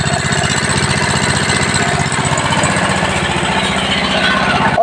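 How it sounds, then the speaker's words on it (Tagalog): A portable generator at a motor shop runs steadily after warming up, its engine giving a loud, close, rapid mechanical chug that stays even throughout with no talking. "Okay na, good sa itong generator."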